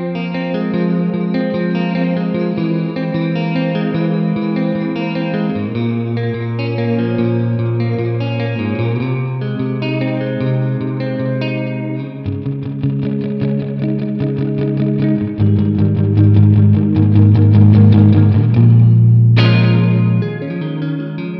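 An electric guitar plays chords and melodic lines through a Strymon Volante echo pedal, with layered repeats, chorus-like shimmer and reverb tails washing under the playing; steady, full and loud throughout with no talking.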